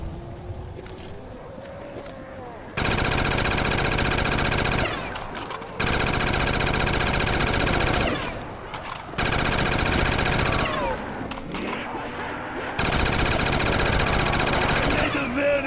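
Sustained automatic gunfire shooting zombies in the Kino Der Toten zombies game, loud rapid bursts several seconds long separated by short pauses, with a person talking between them.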